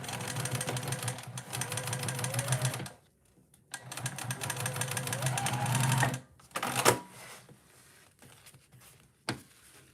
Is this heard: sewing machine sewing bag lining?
yes